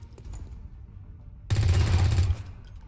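Armor-piercing rounds from XCOM 2 fire in a sudden loud burst of rapid shots that cuts off after under a second, set against quieter game ambience.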